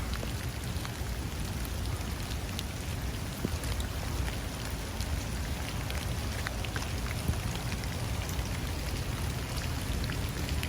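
Rain falls steadily on a wet, muddy construction site, a constant fine patter of drops with occasional sharper ticks, no voices.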